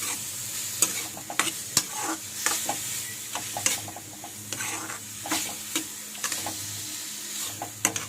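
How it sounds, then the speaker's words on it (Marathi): Vegetables for pav bhaji sizzle and crackle as they roast in a hot pan, with repeated sharp scraping taps from stirring at an irregular pace, fairly close. "कुकरला स्थिती होईपर्यंत ह्याला आपण भाजून घेऊया व्यवस्थित"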